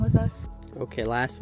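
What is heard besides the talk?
No everyday noise stands out behind the speech.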